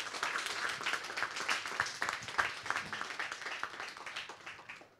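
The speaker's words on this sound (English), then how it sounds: "can we just give a round of applause" An audience applauds a blockchain presenter at a tour event in Chiang Mai, with steady, dense clapping of many hands, fairly close and continuous before tapering slightly at the end.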